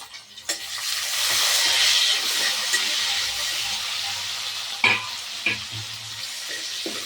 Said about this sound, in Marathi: आता आपण याच्यात टमाटर टाकून घेऊ.